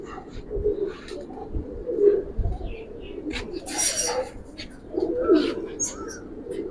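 Giribaz pigeons coo in low, throaty repeated calls nearby in a loft, with a few brief higher chirps and rustles in between.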